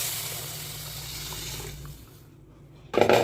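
Strained tamarind water, already salted, poured into a cooking pot: a steady running liquid wash that thins out and fades, followed by a brief louder splash near the end, with no talking.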